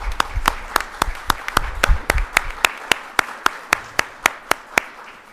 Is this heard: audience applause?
yes